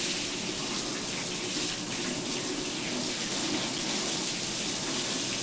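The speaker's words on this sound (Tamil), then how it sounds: "தண்ணி வருது" Water runs from a tap in a steady, unbroken gush, fairly close and alone, for about five seconds.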